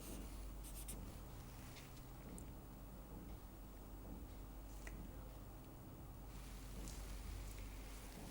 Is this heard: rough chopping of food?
no